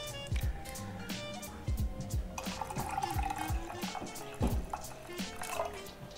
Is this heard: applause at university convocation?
no